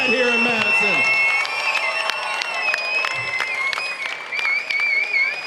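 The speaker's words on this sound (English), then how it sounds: "one more round of applause for one of the best main events we've had here in Madison" Crowd applause and cheering at a Chosen Few Fighting Championship MMA main event in Madison, a dense sustained clapping wash with shouts rising from the audience, loud and close throughout, with talk briefly audible at the start.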